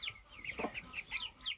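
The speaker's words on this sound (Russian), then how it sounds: "Смотрю, очень много петушков опять." Many young roosters clucking in a chicken coop, a quick run of close, overlapping calls with one lower squawk in the middle.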